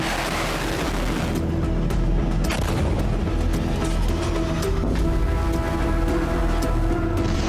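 Heavy booming blasts from missile strikes in Middle East war footage, a dense, continuous low rumble with repeated sharp cracks and thuds, loud and close throughout.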